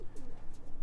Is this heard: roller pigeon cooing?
yes